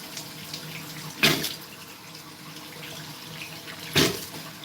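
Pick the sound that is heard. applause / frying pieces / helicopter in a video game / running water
running water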